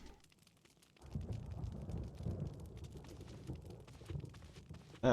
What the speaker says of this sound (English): that thunder still puts me off. Good sound design!